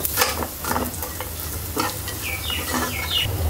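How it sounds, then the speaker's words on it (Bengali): Lentil dumplings (bori) fry in hot oil until red, giving a steady close sizzle with soft stirring scrapes and no talk. "বড়িগুলোকে একবারে লাল লাল করে ভাজবো"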